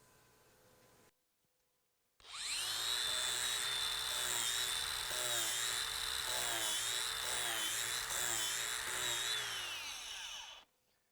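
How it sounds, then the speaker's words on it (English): A power carving tool fitted with a coarse carving wheel grinds into a wooden chair, a loud high-pitched whine that rises in after a short silence and holds steady with wavering pitch as it bites, then cuts off. "I'm actually going to switch to the coarse wheel."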